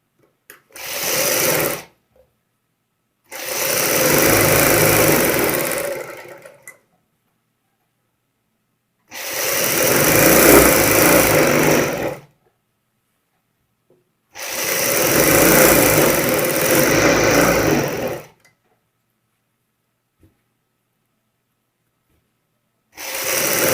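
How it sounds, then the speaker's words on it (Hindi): A sewing machine stitches the side seam of palazzo pants in four sustained bursts of steady whirring, each several seconds long and separated by short silences, close and fairly loud with no talk. "दूसरी साइड की भी यहाँ पे सिलाई कंप्लीट करेंगे।"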